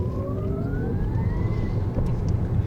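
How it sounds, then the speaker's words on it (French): Ferrari SF90 Stradale hybrid running in full electric mode on its two front electric motors (220 hp to the front wheels), giving a thin rising whine that climbs steadily in pitch over a constant low road and wind rumble, with no talking. "Écoutez le bruit de l'électrique."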